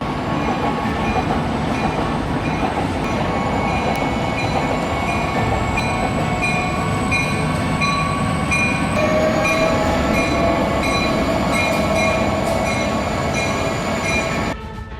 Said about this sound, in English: A train struck and destroyed the safety gate at rail crossing number 20,